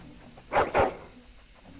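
Two loud, close barks in quick succession from a dog in the video game Dragon Age: Origins, with quiet game ambience before and after and no talking.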